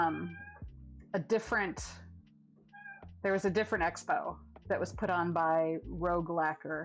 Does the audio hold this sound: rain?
no